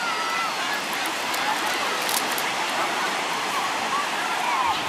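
Waves washing onto a beach near Cromer on the Norfolk coast, a continuous broad surf wash with wind, moderately loud and steady, a voice faintly present.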